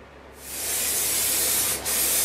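A paint spray gun hisses out a steady, loud broadband spray close by, starting after a short quiet lead-in and running continuously with one brief dip near the end.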